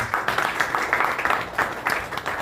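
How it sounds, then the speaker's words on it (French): Steady audience clapping at a formal partnership signing event, a crowd of hands applauding continuously at moderate volume for a couple of seconds. "Je pense qu'ils méritent des applaudissements."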